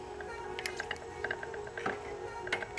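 A bicycle wheel is fitted onto the bike, giving a run of light metallic ratcheting clicks from the hub and small mechanical taps over a steady faint hum, close and quiet, with no speech.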